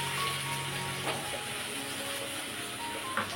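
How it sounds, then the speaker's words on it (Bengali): Tomato paste hits hot oil in a pan and gives off a continuous, fairly quiet sizzling hiss, close by and steady throughout. "এবারটা তেলটা গরম হয়ে গেছে, এবার আমি পেস্টটা দিয়ে দিচ্ছি, টমেটো পেস্টটা দিয়ে দিচ্ছি।"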